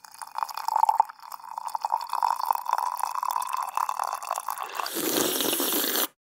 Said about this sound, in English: So it's pouring and slurping.